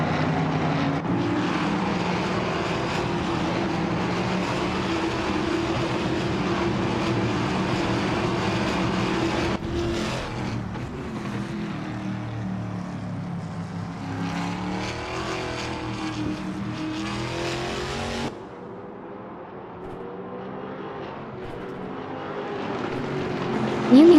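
Continuous engine roar from race cars in a racing video game, among them a Ford Mustang, steady and loud with shifting pitch, dropping away sharply near the end.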